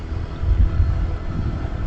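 Strong wind buffets a Gearelec S3 Plus camera microphone, a loud, steady low rumble with gusty swells throughout and no voices.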